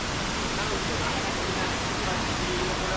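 The Amboli waterfall in the monsoon, a steady broadband roar of falling water that stays loud and unbroken from start to finish, with no voices over it.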